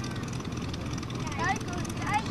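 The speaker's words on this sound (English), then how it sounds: "It's the Geico Sky Typers, and they're up there putting a message up for us" Vintage propeller planes of the Geico Sky Typers team drone overhead while skywriting at an airshow, a continuous distant engine rumble with faint whistling sweeps.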